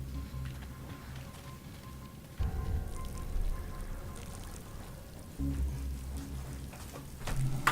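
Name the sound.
water running at a urinal in Saw video game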